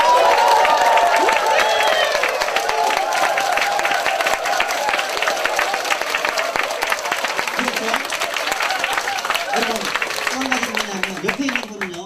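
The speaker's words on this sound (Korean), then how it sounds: "한 번 더 환호성에 박수 한번." A seminar audience breaks into sustained applause and cheering, dense clapping that fills the room steadily for several seconds while a voice talks over it.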